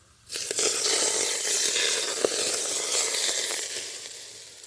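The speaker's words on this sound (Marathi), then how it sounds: "ताई चिकनला कडलेले तेल वतले त्याला हलवायचं नाही असं झाकून ठेवायचं" Hot oil is poured over chicken in a cooking pot, setting off a sudden loud sizzle up close. The sizzle crackles steadily and slowly fades over a few seconds with no talk.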